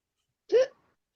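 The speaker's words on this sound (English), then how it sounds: "Was that a hiccup?" A single short hiccup, close and fairly clear, in otherwise near silence.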